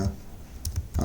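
A few quick taps on a computer keyboard while typing a search for an Arduino Uno component, soft clicks in a short cluster, close and fairly quiet.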